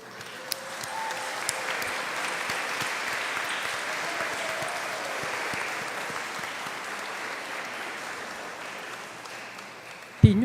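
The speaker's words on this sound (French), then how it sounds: "vous invite à les applaudir" A church congregation applauds newly confirmed first communicants at a First Communion Mass, steady moderate clapping filling the room for about ten seconds before a voice cuts in at the end.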